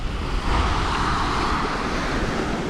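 Surf of the Indian Ocean breaking on Negombo Beach, Sri Lanka, by the fish market, heard as a steady, loud broadband wash with wind buffeting the microphone and no talk.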